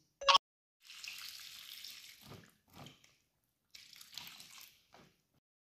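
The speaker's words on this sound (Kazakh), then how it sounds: "Сухофруктымызға міне ыстық су құйып қойдық 5 минутқа." Hot water poured from a kettle over dried fruit in a bowl for homemade compote, heard as two separate splashing pours with a short gap between them, close and fairly quiet, with no talking.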